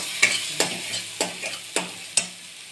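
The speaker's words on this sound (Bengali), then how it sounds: "দিয়ে মশলাটাকে আমি কষে নেবো।" Poppy seed paste with tomato, green chilli, ginger and turmeric sizzles in a pan while a spoon scrapes and stirs it in five or six regular strokes, close and clear with no talking.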